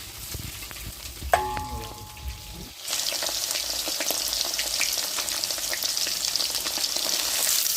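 Paneer frying in hot oil, a brief clatter of utensils first, then a loud, dense, continuous sizzle that stays close and even to the end.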